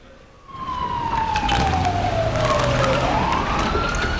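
A police car siren wails loudly and continuously during a stage play, its pitch sweeping down then rising again, with engine rumble underneath.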